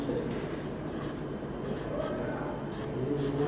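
Marker or chalk scratching across a classroom board in steady continuous strokes, close and moderately loud, with a faint murmur of speech underneath.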